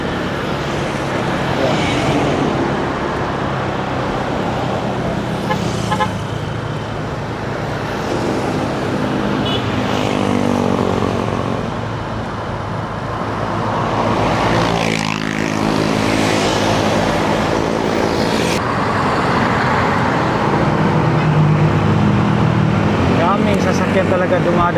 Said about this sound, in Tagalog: Sasakyan talaga dumadaan dito ngayon, holiday, May 1.